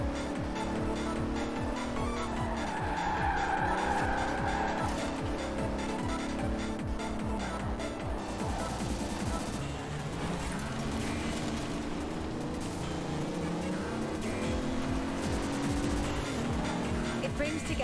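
A 2017 Bentley Continental Supersport with all-wheel drive drives past in a steady engine roar with tire noise, loud and continuous, under speech.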